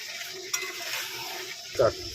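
Mutton being stir-fried in a pan, a soft steady sizzle with a sharp utensil scrape near the start and a louder stirring clatter toward the end; no one speaks.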